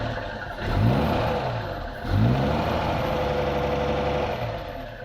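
A Rover 75 P3 engine revs twice with the throttle and choke worked, each rise swelling up from a steady idle close by, with no voices.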